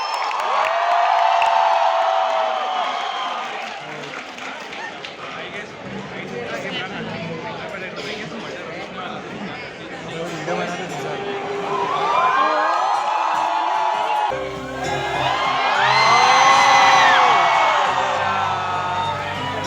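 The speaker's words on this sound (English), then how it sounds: "please let us welcome him on the stage with a huge round of applause and the loudest cheer we can hear" A large student audience at a Model United Nations event cheers, whoops and shouts loudly to welcome a guest on stage, a sustained roaring crowd that swells and falls with excited yells.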